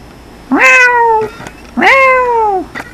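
A cat gives two loud, close meows about a second apart, each a clear, drawn-out call that falls in pitch, with faint soft noises in between.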